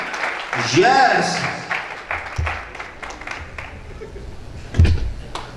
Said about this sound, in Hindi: Let's give a round of applause for Jesus Christ.